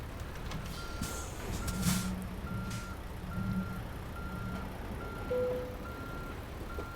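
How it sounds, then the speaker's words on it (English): In the American Truck Simulator video game, a truck's reverse alarm beeps steadily at an even pace over a low engine idle, with a brief hiss of air partway through and no talking. "shift it out of the reverse to get that beeping done"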